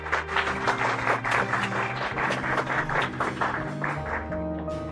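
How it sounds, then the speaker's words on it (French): An audience applauds a singer after a short private concert, sustained dense clapping throughout, loud and close, with faint voices mixed in. "Que tout le monde l'applaudisse très très fort."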